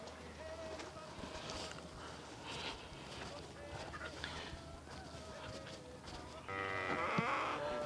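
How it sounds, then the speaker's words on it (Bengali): Black local goats on a farm in Saudi Arabia give faint bleats beneath a person talking nearby, with a louder burst of bleating near the end over quiet background noise. "এটা হলো গিয়ে দেশি ছাগল"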